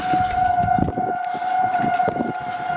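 Storm sirens: a steady, loud wailing siren tone holds throughout, with rumbling background noise beneath it and no talking.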